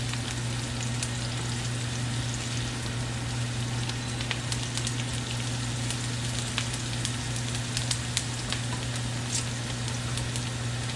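Garlic and onion sauté in oil for kare kare sauce, a continuous dense sizzle with a low steady hum beneath and occasional sharper crackles, no voices.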